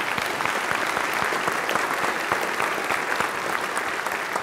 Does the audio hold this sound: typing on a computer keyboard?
no